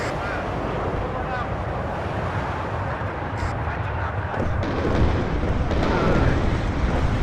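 Heavy rumbling explosions from bombs dropped by Buccaneer jets in the strategy game WARNO, a continuous loud roar that swells toward the end, with a voice faintly underneath.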